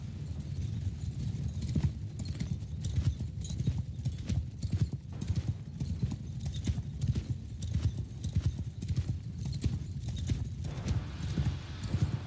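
Horse archers gallop in the medieval battle game Mount & Blade Bannerlord, many hooves drumming in a dense, continuous pounding rhythm that is loud and close, with a faint whinny now and then and no one speaking.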